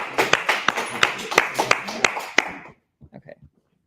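An audience at a course pitch session gives a team a round of applause: several seconds of sharp, fairly close clapping that stops abruptly, followed by a brief bit of talk.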